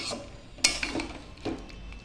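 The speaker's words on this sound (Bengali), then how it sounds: "ভালো করে মিশিয়ে নেব।" A spoon scrapes and clinks against a pot while potato curry is stirred together with fried whole cumin, coriander and garam masala, giving a few sharp metallic knocks amid soft, quiet scraping.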